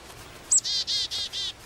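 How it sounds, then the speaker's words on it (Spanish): Cartoon bird chirps in a quick series of five bright, evenly spaced tweets, clear and close with no talk over them. "¡El pájaro!"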